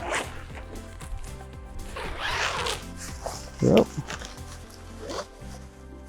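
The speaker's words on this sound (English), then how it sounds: "zipper it up." A zipper is pulled closed on a Six Moon Designs Lunar Solo tent, one quick loud rasping zip near the microphone, with someone speaking briefly before and around it.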